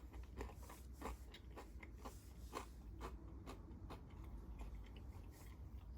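Crunchy fried chicken, coated and cooked in a retro style, bitten and chewed close to the mic: repeated crisp crackling crunches in an irregular chewing rhythm, fairly quiet, with no talking.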